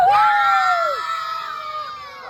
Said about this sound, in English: Kids, if you like the show, give a scream.